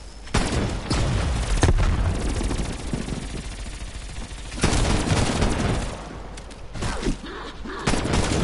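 A grenade blast and bursts of rapid gunfire in a console shooter game, loud and close, with a heavy explosion midway and scattered shots continuing around it.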